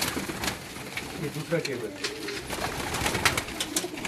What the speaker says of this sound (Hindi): ये भी इनके जोड़ों वाले कबूतर हैं।